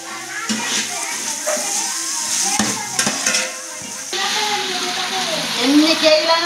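Ginger and coriander being stirred into a large cooking mix, with a steady sizzle and scraping of the spoon running throughout, while children's voices and chatter carry on in the background.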